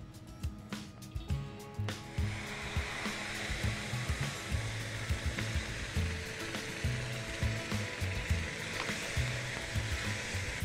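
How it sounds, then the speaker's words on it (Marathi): Boiled water poured into a hot pan gives a loud hissing sizzle that swells after a couple of clicks and knocks and keeps going, broken by bubbling pops and low thumps. "हे पाणी उकळलेलं आहे ते आपण ह्याच्यात घालून घेऊया"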